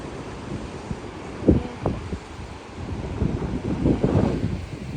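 Wind-blown sea surf on the rocky Tagami-iwa shore in Kita Nagano Coast, Japan, a low rumbling wash that swells toward the end, with a few brief knocks near the microphone.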